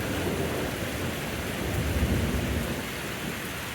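Andean thunderstorm in the Urubamba area, a dense steady hiss of heavy rain with low rolling thunder swelling near the middle, loud and continuous with no voices.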